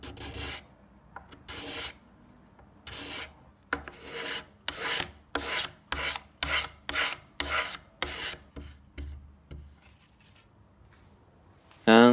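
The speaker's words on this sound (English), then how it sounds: "Some areas needed a bit of card scraping to get really smooth." A card scraper rasps across wood on a chest of drawers in a string of short, crisp strokes, some spaced apart and then coming in a quicker run, close and fairly loud.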